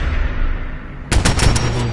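Gunfire in the Fallout 4 video game: a quiet stretch of ambient game noise gives way to a loud, rapid burst of several shots close together near the end.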